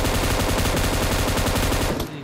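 Automatic gunfire in the game PUBG Mobile, with a fast, steady stream of loud, close shots that stops abruptly near the end.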